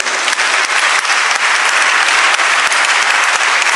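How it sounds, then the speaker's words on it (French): Audience applause during a Lent conference in a parish church, a continuous, loud, even roar of many hands clapping from start to finish with no voices over it. "Mais on va t'applaudir encore."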